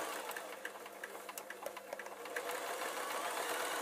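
Sewing machine stitching a crayon and colouring pad case, a rapid mechanical whirring with quick repeated needle clicks, close and fairly quiet, with no talking.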